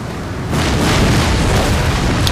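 Artillery pieces open fire during a Napoleon: Total War online battle, a loud burst of heavy booms that swells after a brief lead-in and rumbles on for the rest of the moment.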